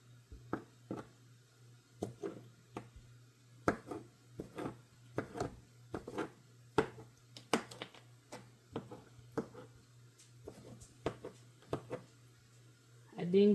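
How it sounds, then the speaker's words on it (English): Knife chopping sausage on a cutting board for an omelet, a steady run of sharp, close taps at an irregular rhythm, alone with a low steady hum behind. "Cut up our sausage."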